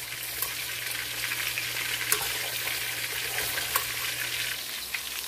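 Meatballs for Italian wedding soup frying in a pan, a steady close sizzle with occasional pops and crackles, no talking.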